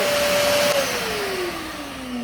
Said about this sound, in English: today we set up the vacuum cleaner and test it work properly and good